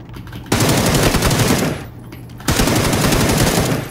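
In PUBG, loud close machine-gun fire rattles out in two sustained bursts, each about one and a half seconds long, split by a short lull.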